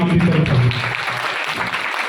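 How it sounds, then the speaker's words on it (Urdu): A church congregation claps together in a dense burst of applause that fades slightly over about two seconds, with a voice speaking over it at the start. "اسی زوردار تالیاں بجائیے"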